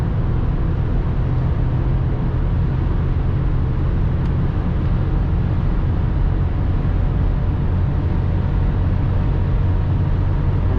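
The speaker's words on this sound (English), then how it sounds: "At 200 you just hear the wind, the V8 screaming, and that's it." Loud, constant low V8 engine roar blended with rushing wind, a sustained drone from inside a BMW X5 E53 4.4i at about 200 km/h on a highway, with no talking.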